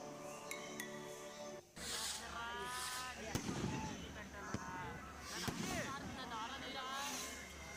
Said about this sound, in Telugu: మీకు ఆల్రెడీ బాణసంచా కార్యక్రమం మొదలైంది